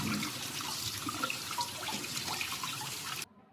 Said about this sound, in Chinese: 再用流动水冲洗干净。